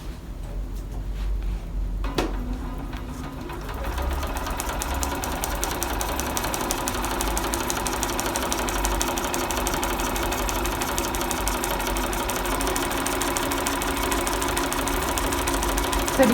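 A B480 sewing machine runs steadily, stitching down rows of padded lining with a continuous mechanical whirr that starts after a brief pause and holds at a close, even level with no talking.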